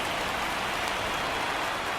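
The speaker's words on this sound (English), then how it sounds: "Yeah, the rain starting to intensify here." Rain pours steadily during a baseball game in the video game MLB 19 The Show, a dense, even hiss of drops on the surface throughout with no voices.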